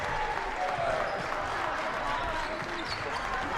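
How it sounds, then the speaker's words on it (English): Steady applause from the crowd at a high school girls' basketball game fills the gym, an even wash of clapping that holds throughout without a break. "a nice round of applause and recognition from her teammates"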